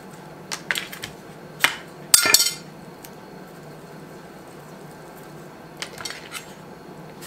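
Knife cutting the ends off a cucumber on a board, a few sharp clicks and taps scattered over several seconds with a louder clattering cluster in the middle, close and otherwise quiet.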